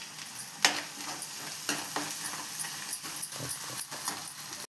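Methi bhaji frying in a pan with turmeric, a soft sizzle beneath sharp scraping strokes of a spoon stirring at an irregular pace, with no one talking.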